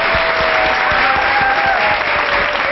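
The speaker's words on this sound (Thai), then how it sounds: "ขอเสียงปรบมือด้วย" An audience claps steadily at a televised Thai high-school quiz show, dense applause filling the space with a faint tone sounding underneath.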